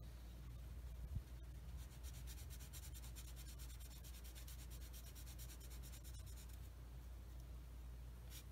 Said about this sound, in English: I might as well sand these off while I've got my sanding stick out.